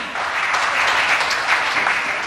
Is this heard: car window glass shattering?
no